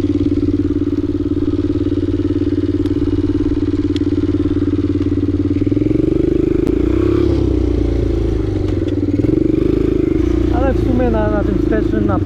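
A Bombardier 125 quad's engine running close by, a steady loud idle whose pitch drops and roughens midway, with people talking over it.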